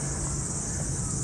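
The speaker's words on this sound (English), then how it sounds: "cicadas" Loud cicadas in Ueno, Tokyo, on a summer day make a dense, unbroken high-pitched drone that holds steady for the whole stretch, close and intense.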